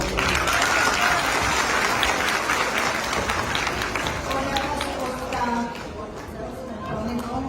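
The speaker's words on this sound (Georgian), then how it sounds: "თქვენი აპლოდისმენტები გყავთ." An audience claps at an award ceremony as a nomination is presented, a loud sustained wash of applause with crowd chatter mixed in that gradually thins toward the end.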